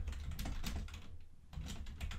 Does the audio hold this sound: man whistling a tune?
no